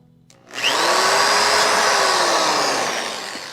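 A power drill with a 1/4 inch bit whirs steadily after a brief click, drilling a hole in a 2020 Subaru WRX, a loud continuous whine that holds for a few seconds and eases slightly toward the end.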